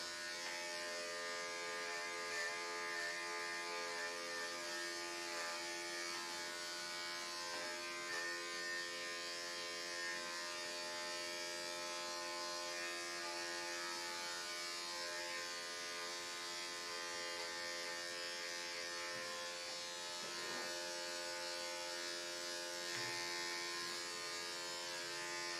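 Electric clippers buzz steadily and continuously while shaving a dog's short, needle-like coat, a close, unbroken electric hum with slight changes as the blade moves through the hair.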